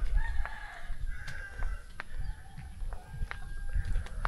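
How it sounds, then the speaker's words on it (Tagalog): Chickens roaming freely cluck and a rooster crows repeatedly on a mountain hike, fairly distant, over a low outdoor rumble with scattered bird calls. "Mga manok nila marami yung maglagala lang."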